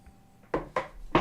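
A d10 die rolled for a tabletop game, clattering onto a hard surface in three sharp, close knocks spaced about a quarter to half second apart.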